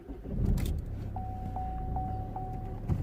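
A Vauxhall Astra J 1.7 CDTi diesel, with an engine fault warning present, starts up: a short burst of cranking gives way to a low, steady idle while a dashboard chime beeps repeatedly in a regular pattern.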